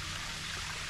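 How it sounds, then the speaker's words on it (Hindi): Water flowing downward past a fort on the Poonch River in Sehnsa valley, Azad Kashmir, a steady broadband rushing and trickling that stays even and fairly close throughout, with no voices. "ये देखें अभी जा भी रहा है पानी।"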